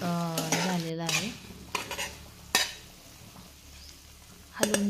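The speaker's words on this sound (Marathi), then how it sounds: "हलवून घ्यायचं चांगलं" A cornflour mixture is stirred in a pan, with a spoon scraping and clinking against the metal in short, quiet bursts between pauses, while a voice speaks briefly at the start.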